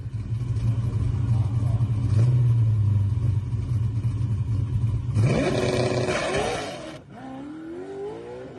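A drag car at Drag Week sits on a loud, steady engine rumble, then launches with a roaring rise in revs and a high, spinning-tire whine, fading slightly as it pulls away.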